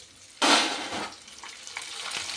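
Leftover dried rice drops into hot oil and puffs up, giving a sudden loud burst of crackling sizzle that settles into a softer, steady frying hiss with small pops.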